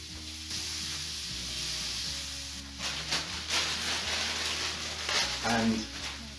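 A large handful of pre-washed spinach sizzles in a pan, cooking down with scrambled eggs, a low crackle that grows louder and more spluttery toward the end while a person talks throughout and some stirring clatters in.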